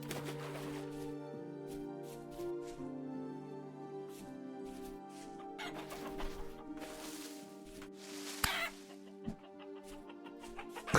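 Chickens in the video game Vintage Story, with repeated clucks and squawks close by over a steady droning background, growing agitated toward the end.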